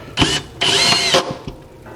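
A power drill drives 1¼-inch screws into the upper track of a stand enclosure for a Laguna Supermax 19-38 drum sander: short, loud, close whirring bursts, one brief and one longer, then a faint tail.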